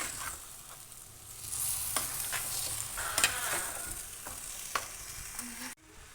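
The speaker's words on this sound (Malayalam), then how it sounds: "ചിക്കൻ ചേർത്ത് മസാലയുമായി നന്നായി മിക്സ് ചെയ്യുക." Marinated chicken stirred into masala in a pan for a Kerala-style chicken curry, giving steady soft sizzling with scraping spoon strokes throughout, fairly quiet and with no talk.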